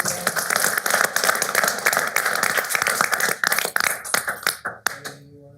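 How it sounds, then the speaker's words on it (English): Audience applause at a city council meeting: dense, sustained clapping from a room of people that thins into scattered individual claps before fading out. "One more round of applause."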